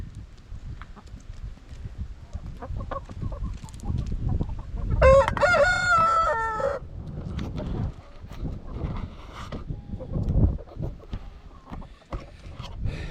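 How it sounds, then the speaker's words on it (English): A big white English Sussex rooster crows once clearly and loudly among clucking chickens, with soft background noise around the flock. "That's the big rooster."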